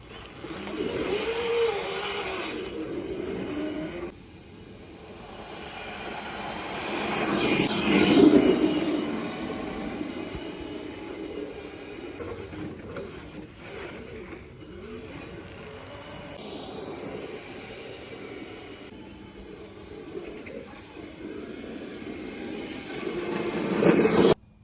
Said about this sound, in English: That were some clips of the crazy cart of me driving it.